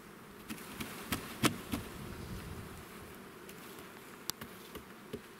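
Honey bees buzz in a continuous, even hum at an open hive nearby, with occasional light knocks and taps scattered through.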